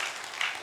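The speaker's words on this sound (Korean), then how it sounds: "격려의 박수를 한번 좀 보내주시면 좋겠습니다" A church congregation gives a short burst of steady applause to encourage its choir at a Sunday morning service. The clapping is a dense, even patter that fills the moment without any speech.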